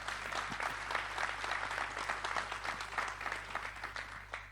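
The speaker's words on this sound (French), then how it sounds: "Vous pouvez l'applaudir." Audience applause after a speaker's testimony at the opening of an agricultural innovation competition, a steady dense clapping of a seated crowd that holds evenly throughout, moderately loud over a low constant hum.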